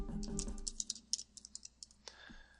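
A short burst of typing on a computer keyboard in an office, roughly a dozen crisp, separate key taps, faint and close, with a brief murmur at the start.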